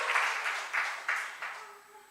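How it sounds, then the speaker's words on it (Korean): Church congregation clapping during a New Year's Eve service: a brief, fairly faint burst of applause with several rhythmic swells that fade out, no voices over it. "우리 박수 한번 이렇게"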